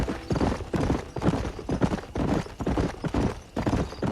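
Steady clip-clop of horse hooves trotting on a hard road in the video game Red Dead Redemption, rhythmic and continuous, with wagon rumble underneath and no voices.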